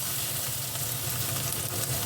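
Kochur loti, taro stolons, frying with spices in a pan, a constant dense sizzle heard up close, steady and unbroken with no talk.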